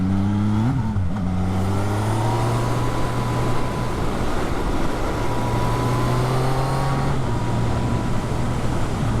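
Yamaha XSR900 motorcycle (2019) leaning through turns on a gravel-dusted road, its steady engine drone dipping briefly then holding a constant pitch, loud and close with heavy wind rush and no talking.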